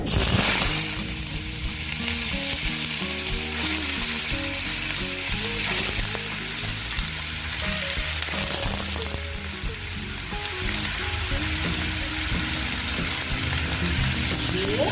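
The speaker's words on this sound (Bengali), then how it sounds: "এগুলোকে আমি আগে সুন্দর করে ভেজে নেব বন্ধুরা দেখো ভাজা হয়ে গেছে" Vegetables for Bengali radish ghonto fry in a pan with a steady, close sizzle that runs the whole way through, alongside faint sustained tones in the background.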